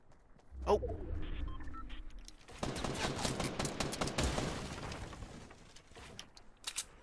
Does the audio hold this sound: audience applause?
no